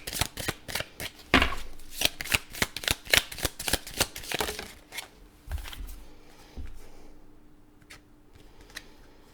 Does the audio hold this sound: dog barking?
no